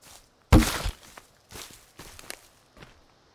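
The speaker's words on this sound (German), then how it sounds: "Mich deucht, ich hörte Schritte." Footsteps in the video game Sons of the Forest: one heavy, close step followed by four or five softer, irregular steps on the ground, alone with no talk.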